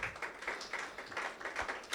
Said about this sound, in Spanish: Dale un aplauso a Jesús, amado.